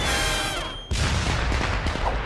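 A cartoon explosion in an Inspector Gadget scene bursts in abruptly after a held tone, followed by a loud, rumbling and crackling aftermath that fills the rest of the moment.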